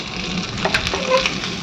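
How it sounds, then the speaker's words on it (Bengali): Prawns frying in a hot pan give a steady, close sizzle and crackle, with a few sharper pops rising briefly above the hiss over a second and a half. "চিংড়ি মাছটা ভেজে ডিমগুলো ভেজে নেব।"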